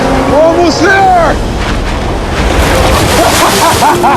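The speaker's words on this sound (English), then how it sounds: "Those waves look really big over there. And they're coming right at us." Large ocean waves rolling and breaking near an island shore, a loud, steady wash of surf mixed with wind buffeting the microphone, with excited voices calling out over it.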